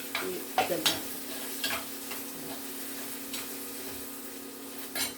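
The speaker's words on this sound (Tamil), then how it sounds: "இப்போ வெங்காயம் நல்லா வதங்கிடுச்சு." Onions frying in a pan for village-style kara bath make a steady sizzle, with periodic spatula scrapes and taps against the pan, close and moderately quiet.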